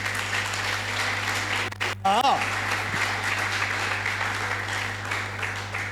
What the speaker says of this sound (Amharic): ለጌታ አጨብጭቡ